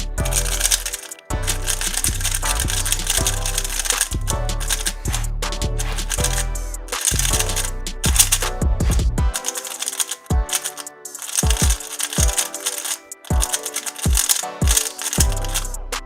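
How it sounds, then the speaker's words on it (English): A MoYu RS3M 2020 3x3 speed cube being turned quickly, producing rapid plastic clicks and clacks in bursts, then slower separate snaps toward the end. "now just turn the cube so you can hear and see how it turns"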